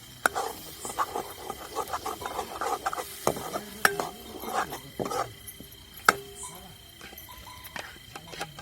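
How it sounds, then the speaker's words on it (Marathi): Masala being fried in oil for a brinjal and potato dish, with irregular spatula scrapes and knocks against the pan over a soft sizzle, close and uneven in rhythm. "तर तो मसाला आपल्याला चांगला परतून घ्यायचा आहे"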